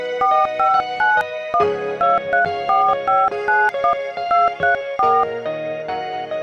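A rapid sequence of telephone keypad tones, each short beep a different pitch, as a number is dialed button by button.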